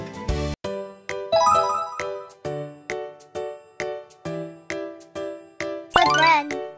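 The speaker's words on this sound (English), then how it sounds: "But then, the clock struck midnight. Ding dong, ding dong." A clock strikes midnight with a long series of bright, ringing bell chimes at a steady pace, each stroke decaying before the next, with a few sparkling flourishes layered in near the start and end.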